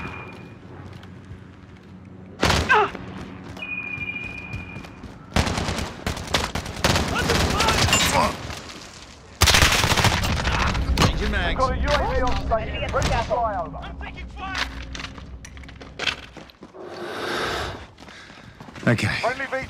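Call of Duty team deathmatch on the Piccadilly map, with bursts of automatic gunfire and rapid cracking shots, some close and loud, some fading back, separated by short pauses, while voices call out over the fighting.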